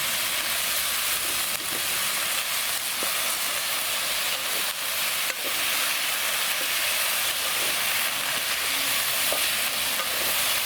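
Bacon and sausages stirred in a wok over a titanium twig stove outdoors, a dense continuous sizzle with intermittent spatula scrapes and knocks, close and steady.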